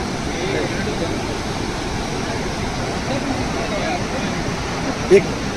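Steady rushing water of a waterfall at Marleshwar roars throughout, a constant broadband wash, with a brief soft bump near the end.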